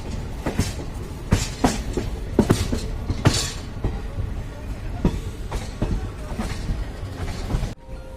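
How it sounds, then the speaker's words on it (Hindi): Nauchandi Express rolling slowly into Meerut City Junction, steady clickety-clack of wheels over rail joints in spaced beats under a low rumble, heard from on board with no talk. "तो ट्रेन का अराइवल बड़े धीरे धीरे हो रहा है"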